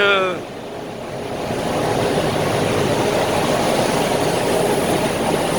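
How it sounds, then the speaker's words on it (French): Conveyor belt machinery in a brickworks runs with a steady, loud mechanical rumble and broadband rattle, continuous throughout after a brief dip at the start. "Ça c'est le tapis 12, il est en train de marcher."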